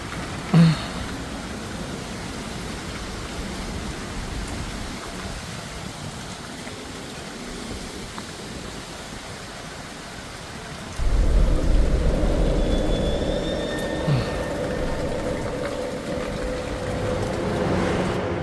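Steady heavy rain pours throughout a storm with strong wind, with rumbles of thunder and a sudden surge in intensity partway through as the downpour grows louder.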